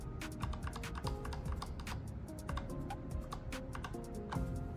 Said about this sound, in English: You can navigate through the document with the arrow keys.